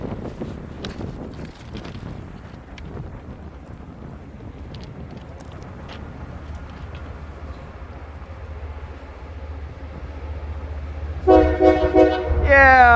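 A train runs along railway tracks with steady low rumble and wind noise throughout, then a loud horn toot sounds close by near the end.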